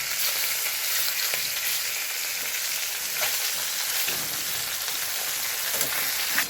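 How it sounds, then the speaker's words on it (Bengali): Rohu fish pieces fry in hot oil, a loud continuous sizzle and crackle that holds steady throughout, with a few soft clicks and scrapes as the pieces are turned and no voices. "এবার উল্টে দিয়ে এবার এই পাশটা ভেজে নেবো"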